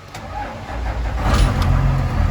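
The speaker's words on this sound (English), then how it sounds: "Bus turns on." A school bus engine, in a vehicle being converted into a skoolie, cranks and catches, its low rumble building steadily and growing louder over a couple of seconds.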